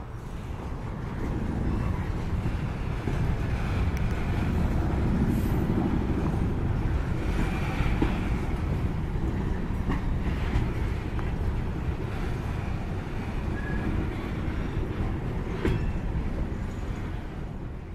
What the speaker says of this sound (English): here comes Amtrak 63, the westbound Maple Leaf with 145 starring